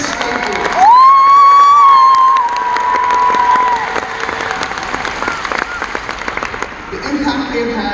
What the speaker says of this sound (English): Let's give a big round of applause for the Northrop Grumman Foundation.